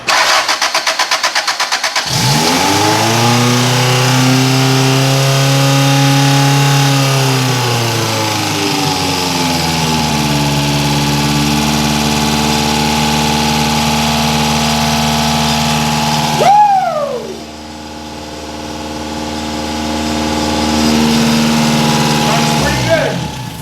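A 1978 Toyota Corolla fitted with EFI cranks briefly and catches, then settles into a steady close idle with a few rising revs; people talk quietly near the running car in an enclosed room.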